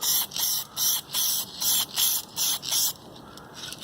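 Paint is sprayed inside a fridge in about eight short, evenly spaced hissing bursts, loud and close, then a quieter pause with light handling noise.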